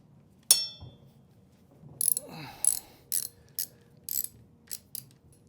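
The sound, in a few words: tightening bolts with a ratchet on a Norden 901 motorcycle wheel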